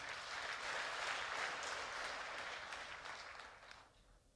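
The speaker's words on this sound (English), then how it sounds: "Now, clap for that young man." A church congregation applauds during a Sunday service: steady, dense clapping that fills the room, then thins and fades toward the end.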